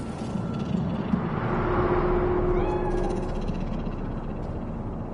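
A cat meows in the streets of Night City in the video game Cyberpunk 2077, a single drawn-out call rising over a steady low city hum, with no one speaking.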